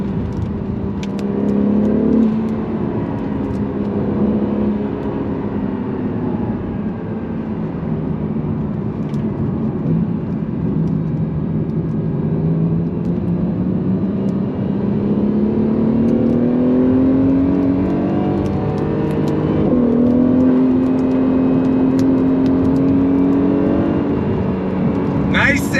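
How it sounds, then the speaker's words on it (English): A 2022 Acura NSX Type S with a twin-turbo V6 accelerates hard from inside the cabin, engine note rising steadily through the gears with a loud, continuous whir and drone, and a voice talking over it. "Let's go on throttle in this 2022 Acura NSX Type S."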